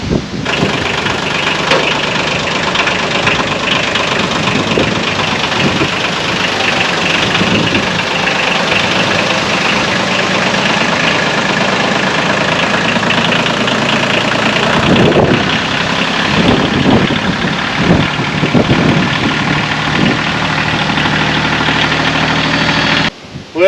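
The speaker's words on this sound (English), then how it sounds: "I'm going to back the tractor off the trailer and we'll see if it flexes." A tractor engine runs steadily in a barn as the tractor backs off a welded trailer, a loud continuous mechanical drone with a few heavier thumps and revs near the end.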